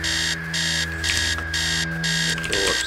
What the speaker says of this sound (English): Upstairs, the sound of the alarm clock blaring.